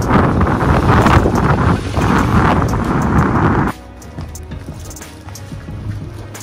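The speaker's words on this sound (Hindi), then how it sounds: "बहुत हवा चल रही है अभी।" Strong wind buffets the microphone outdoors, a loud, continuous roar that drops abruptly to a softer, steadier rush partway through, with no speech.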